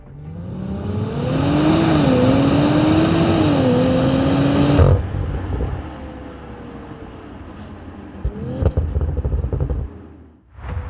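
A 2027 Audi RS5 hybrid with a twin-turbo V6 revs loudly for about five seconds, its pitch rising and falling through gear changes, then drops to a quieter engine hum with brief bursts near the end.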